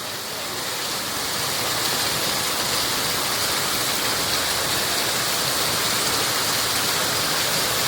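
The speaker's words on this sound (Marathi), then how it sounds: "नुकताच आलो आणि पावसाने सुरुवात केली" Steady, heavy rain pours down as a dense, even hiss that holds constant throughout, loud and close with no other sounds.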